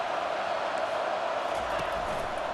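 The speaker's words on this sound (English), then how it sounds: "This crowd full throat, splitting the eardrums and letting them know it's going to be a long day." A stadium crowd roars loudly and continuously in the video game College Football 25, a dense wash of cheering filling the space without a break.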